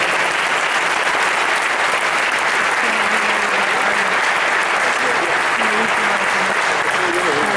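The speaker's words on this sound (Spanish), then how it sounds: "muy fuerte aplauso." An audience claps loudly after a talk, sustained dense applause at a constant high level throughout, with a few faint voices mixed in beneath the clapping.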